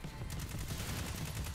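Hand cannon fire in Destiny 2 on PC: a quick run of sharp gunshots in steady succession, fairly quiet and unaccompanied by talk.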